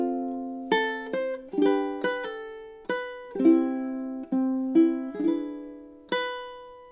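Ukulele strumming and picking measures 17 and 18 of a song, a short run of clear plucked chords and single notes in a steady counted rhythm, close and alone with no voice.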